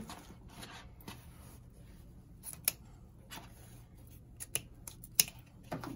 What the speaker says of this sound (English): I'm just gonna cut my my ribbon ends